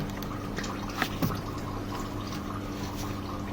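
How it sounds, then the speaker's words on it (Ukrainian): Engine oil from a Peugeot 508 1.6 HDi DV6C draining as the oil filter is removed, a faint steady trickle with a couple of soft drips against a constant low background hum. "чую масло тече трошки голосніше"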